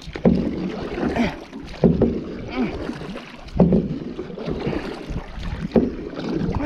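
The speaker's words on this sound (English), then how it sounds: "Don't worry, I know how to paddle. Just not very fast." Hand paddling a small fishing boat on open water, with irregular splashing strokes every second or two over wind noise and water wash, fairly close.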